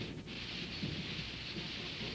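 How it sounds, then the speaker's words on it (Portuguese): Continuous rain during a thunderstorm in an animated cartoon, a steady dense hiss with a low rumble of thunder underneath, no voices. "Duas semanas de chuva."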